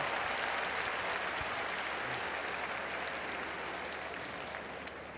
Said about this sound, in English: could you applaud for my helpers here as they find their seats?